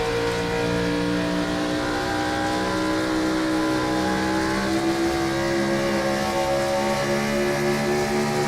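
Simulated race cars in iRacing at Homestead-Miami Speedway roar in a dense pack, engines held at high revs in a loud, continuous layered whine.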